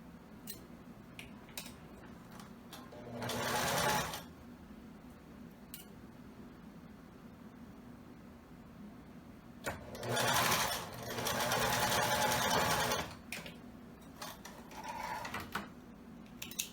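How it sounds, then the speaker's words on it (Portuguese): A sewing machine stitches a zigzag seam attaching wide elastic to fabric in several close, buzzing runs of rapid needle chatter, with quieter handling and clicks in the gaps between bursts. "eu faço uma costura de zigue-zague pegando o tecido mesmo aqui"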